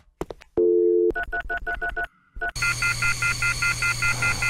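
Telephone keypad in The Red Room video game: a few separate beeps, a held tone, then a quick run of rhythmic dialing tones and a steady line tone, close and clear with no voices.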